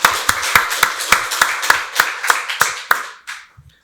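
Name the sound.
congregation clapping in church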